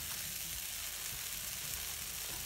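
Peppers, onions and tomato sizzling in a pan, a steady close hiss of frying with faint stirring clicks underneath, no voices.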